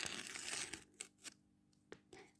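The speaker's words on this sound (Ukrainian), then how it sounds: "давайте естетику рожевого відкриємо пакетик. Ось цей у нас пакетик. Така тут відкривашка." Crinkly tearing and rustling of a packet being ripped open, loud at first, then a few separate short crackles and rips with pauses between.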